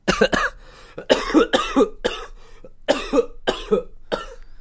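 A man on a podcast recording coughs repeatedly, about eight harsh, close coughs in quick bursts with brief gaps, loud and dry, with no speech in between.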